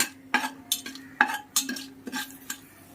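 Vegetables stirred in a hot pan with a ladle, spoon strokes scraping metal in an uneven rhythm of sharp clinks over a low steady sizzle, close by, no voices.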